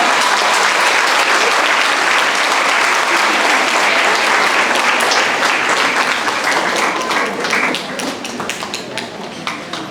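Loud, sustained applause fills a hall at a teachers' award ceremony, a large crowd clapping continuously before the sound thins and fades slightly near the end.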